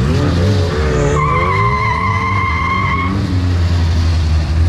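A VW Gol 4x4 street car launching at a drag race, loud engine roar with a long high-pitched tire squeal sustained for about two seconds, heard close and alone.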